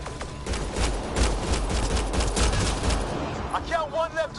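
Gunfire in the video game Mass Effect Andromeda, dense rapid bursts of shots rattling continuously at close range, with a voice speaking briefly near the end.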